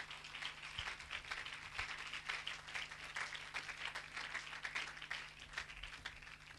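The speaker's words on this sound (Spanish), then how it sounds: "Denle un aplauso al Señor Jesucristo, hermano, esta mañana." Church congregation applauding during a Spanish-language sermon, a faint, steady patter of many hands clapping heard at a distance with a low constant hum underneath.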